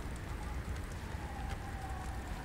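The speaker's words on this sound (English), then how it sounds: "It's like hail or something." Rain and hail in the underwater survival game Subnautica: Below Zero, a soft steady patter of drops with faint scattered ticks and a thin tone drifting through the background.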